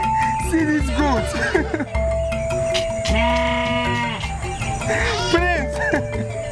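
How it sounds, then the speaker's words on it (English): A goat bleats repeatedly in wavering, harmonic cries within a busy outdoor scene from an epic film, with voices and background music running underneath throughout. "See this goat."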